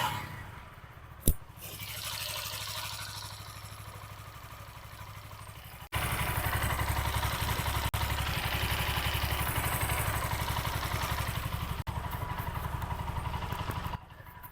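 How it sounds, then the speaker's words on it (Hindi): A TVS Apache RTR 160 4V motorcycle gets a sharp kick-start thump, then idles with a low, even hum. After a few seconds the engine comes in louder, with a steady, throbbing beat, close by and with no talking. "देखिए एक किक में बाइक स्टार्ट होगा और इंजन का साउंड देखिए"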